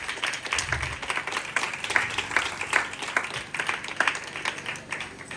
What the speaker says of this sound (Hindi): जोरदार तालियां बजाए खुदा की तरह।